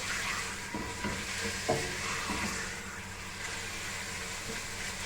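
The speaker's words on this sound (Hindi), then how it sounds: "तकरीबन ½ kg होगा ये चिकन, और थोड़ा सा हमने इसको तेज़ आंच पे भून लेना है" About half a kilo of chicken frying over high heat, a steady broad sizzle with a few stirring clacks and scrapes near the start.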